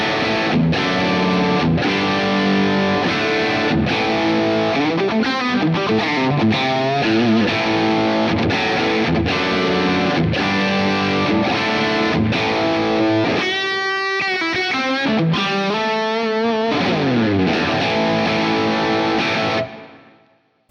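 Electric guitar played through the overdrive channel of a Suhr PT15 I.R. amp, with a gritty, distorted tone: strummed chords and picked phrases with sustained ringing notes, loud and close, stopping abruptly at the end.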